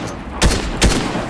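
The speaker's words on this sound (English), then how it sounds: "Getting shot from the side." Two sharp, close gunshots in Fortnite, spaced about half a second apart, loud punchy cracks over a quiet game ambience.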